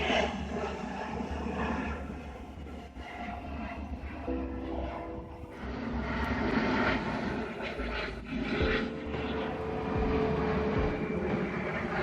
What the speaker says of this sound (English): we were treated to numerous flyovers of various types of airplanes and jets